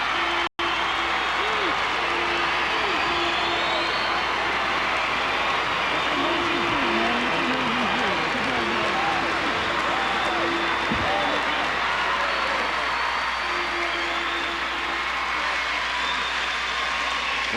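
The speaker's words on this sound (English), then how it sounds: "What an ovation he received from the largest crowd that has ever watched a Class AA championship." A huge crowd at a Class AA state high school hockey championship in an arena gives a goaltender a sustained ovation: dense, loud applause and cheering roll on continuously with no pause.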